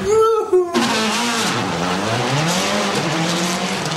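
Citroën WRC rally car at the 2005 Rally of Turkey, its engine roaring loud and close as it launches and accelerates toward the first corner, revs climbing steadily after a brief voice at the start.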